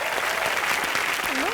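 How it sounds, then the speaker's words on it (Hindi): Loud, dense applause from a studio audience at a Hindi TV comedy show fills the whole moment, with a voice briefly audible over the clapping. "अकबर, अनारकली और सलीम के लिए जोरदार तालियां हो जाए।"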